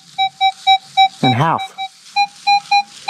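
A Minelab Equinox 800 metal detector gives a repeated steady beep tone for a half dollar, evenly spaced pulses close up, broken once by a brief spoken remark.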